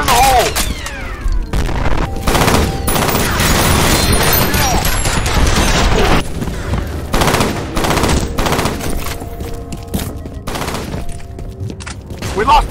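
Sustained automatic gunfire mixed with heavy booms during combat in the video game F.E.A.R., loud and dense throughout with repeated bursts and blasts, and voices shouting.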